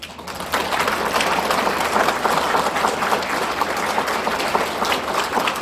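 A lecture audience claps steadily through a humor and laughter-therapy talk, a dense, sustained wash of many hands without a pause and with no voices on top.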